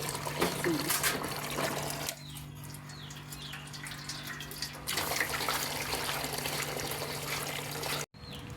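Mushrooms being washed by hand in water at a sink, with a steady, close rush and splash of running tap water and light sloshing throughout, and a voice talking over it in the first part.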